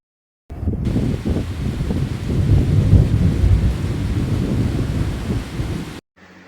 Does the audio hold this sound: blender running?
no